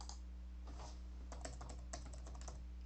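Fast, light keystrokes on a computer keyboard as a password is typed, a short close burst of clicks over a steady low hum.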